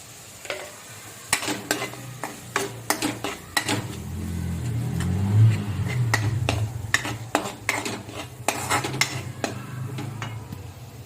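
Spice masala roasting in oil in a pan, with asafoetida and turmeric added, while a spoon stirs and scrapes. Close, repeated clinks and scrapes of utensil on metal run over a steady low sizzle, with no talk.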